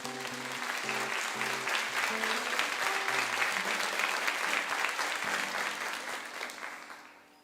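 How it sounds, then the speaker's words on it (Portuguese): A church congregation applauds the word of God during a service, a broad, continuous burst of clapping over a held organ or keyboard melody, fading away near the end. "aplauda a palavra de Deus"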